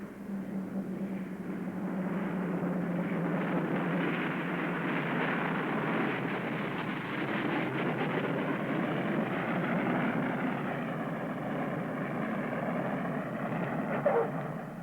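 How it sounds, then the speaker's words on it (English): A Douglas DC-6 propeller airliner lands on a snow-covered runway as its propellers reverse pitch, producing a steady, loud engine and propeller roar that holds for the whole stretch with a slight swell near the end and no voices. "As the wheels touch down on the snow-covered runway, the pilots pull back the throttles, reversing the pitch of the propeller."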